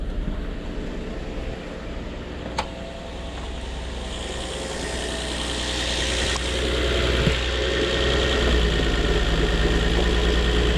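A car engine idles steadily on a cold winter day, a low continuous rumble close by, growing slightly louder, with a couple of faint clicks and no voices.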